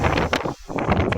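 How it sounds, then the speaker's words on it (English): Strong wind buffets the microphone at a hilltop lookout above an underground water tank, a loud, continuous rumbling roar that dips briefly to near quiet midway before gusting back. "It's also very windy"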